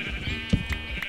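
A single short sheep bleat rings out in a video game, a quick wavering cry over a soft murmur of background noise.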